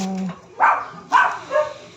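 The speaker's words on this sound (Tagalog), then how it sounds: "ingay ang aso" Three short, sharp dog barks ring out about half a second apart, close and fairly loud, with a brief murmur before the first.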